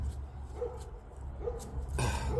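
Dogs barking outdoors in a rural country setting, a few short barks spaced apart at a moderate distance over low background rumble, with a louder burst of noise near the end.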